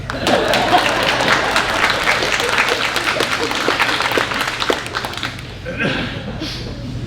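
Audience at a memorial service applauding, a dense, steady wash of clapping that fills most of the stretch before tapering off, with a voice briefly heard near the end.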